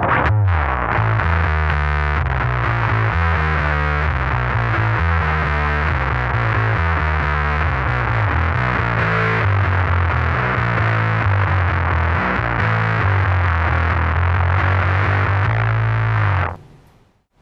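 An Epiphone Thunderbird bass through a Big Muff fuzz pedal plays a thick, fuzzy distorted riff, loud and continuous for about sixteen seconds before cutting off.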